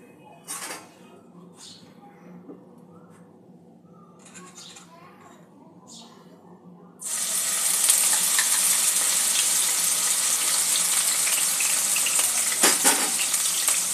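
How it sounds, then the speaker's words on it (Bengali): Onion, ginger and garlic paste hits hot oil for a chicken filling, starting a loud, steady sizzle about halfway through that holds to the end, after a quieter stretch of faint kitchen sounds. "পেঁয়াজ, আদা, রসুনের পেস্টটা কিছুটা দিয়ে দেবো।"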